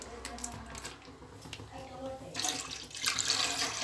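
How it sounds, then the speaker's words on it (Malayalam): Milk from a packet pours into a pot while payasam is being made, a steady liquid splash that grows louder and brighter toward the end as the stream fills the vessel. "1 പാക്കറ്റ് പാലും കൂടി നമുക്കിനി ഒഴിക്കാം"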